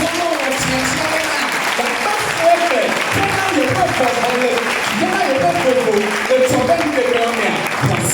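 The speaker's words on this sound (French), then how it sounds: "applaudis très fort le Seigneur" A church congregation claps loudly in a sustained, dense burst of applause that fills the room for several seconds, with a voice speaking over it.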